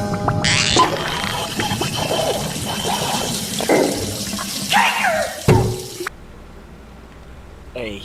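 Running shower water in a cartoon scene, a continuous hissing spray beneath speaking voices that stops abruptly near the end.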